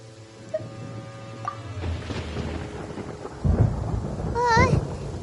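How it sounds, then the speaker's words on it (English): Thunder rolling in the video game Genshin Impact: a deep rumbling crash swells in the second half over soft background music, with a brief high wavering voice-like sound near the end. "Paimon hears thunder!"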